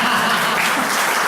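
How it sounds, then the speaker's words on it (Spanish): An audience at a senior citizens' course closing event claps in a short, dense burst of applause, loud and close, with no speech over it. "un aplauso para Luana"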